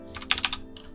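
Quick bursts of typing on a computer keyboard, a short run of clustered keystrokes, a brief pause, then one more tap, close and clear.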